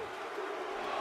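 Brief wash of a WWE 2K24 arena crowd chanting, a steady roar of many voices at moderate distance, heard alone for about a second.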